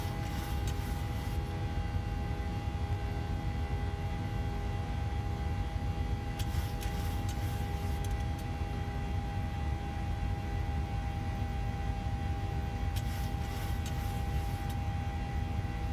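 A light aircraft engine in a flight simulator game, flying from Albuquerque toward Phoenix near Sandia Crest, holds a steady droning hum with faint hiss throughout, and a few brief bright bursts of noise interrupt it.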